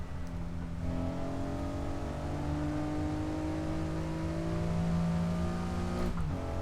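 Stock Acura NSX engine lapping Laguna Seca in Assetto Corsa, a steady droning engine note with rising and falling pitch as it revs through gears, continuous and moderately loud, with no talk.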